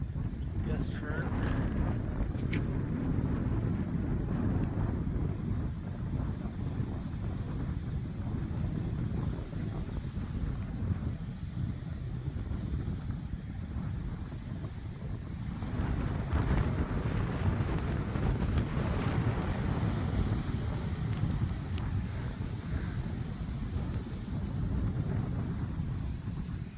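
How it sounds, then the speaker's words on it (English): A thunderstorm gust front drives strong, steady wind that roars across the microphone for the whole stretch, building slightly near the middle, with voices partly under the noise. "There's the gust front."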